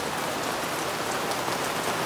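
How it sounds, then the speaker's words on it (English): Heavy, relentless rain pours down in a dense, steady roar of drops hitting the ground and surfaces, loud and close, with no talk over it. "Yes, it's non-stop rain, it is absolutely relentless"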